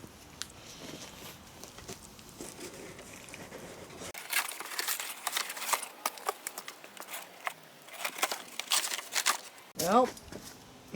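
Packaging around a Fiskars tree lopper crinkles and rustles in irregular bursts, close and fairly quiet, with a voice heard at the start and again at the end.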